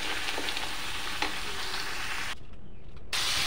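Mashed potato and pumpkin frying in oil with asafoetida, a dense continuous sizzle with faint stirring taps up close, briefly dipping before it returns, no one speaking.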